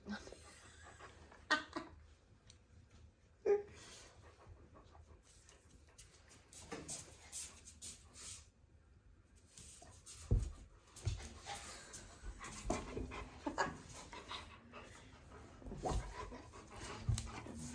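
A dog panting and whimpering close by, with intermittent soft whines and breathy pants spread over a quiet indoor scene and occasional handling noises.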